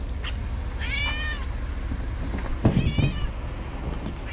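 A cat meows twice, close and moderately loud, at an off-grid tiny house cabin homestead, with steady low wind or background rumble underneath.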